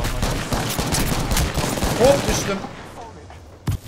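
Rapid gunfire in Apex Legends rattles in dense, loud bursts for about two and a half seconds, then drops away, leaving one late sharp shot, with a voice talking over the shooting.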